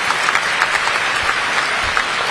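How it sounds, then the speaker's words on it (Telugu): Audience at a Telugu diaspora meeting in Dallas claps loudly and steadily, a dense burst of applause from a full room, with no speech. "So please give them a big hand of applause."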